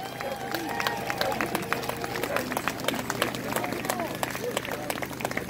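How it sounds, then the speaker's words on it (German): Crowd applause at an outdoor political rally in Hannover, a dense stream of claps with scattered cheers over a low steady hum, fairly even in level throughout. "Ja, bitte Applaus. Applaus für die Demokratische Gewerkschaft."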